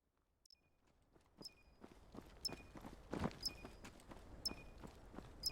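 Rapid footsteps in the competitive shooter Vail build from faint to fairly loud, a quick steady run of crisp impacts with high metallic clinks, heard with no talk.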